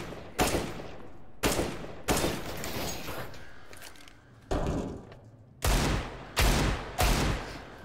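A Desert Eagle pistol fires in the video game CS:GO on a challenge map. About seven sharp, loud shots ring out at irregular intervals, each followed by a short echoing tail.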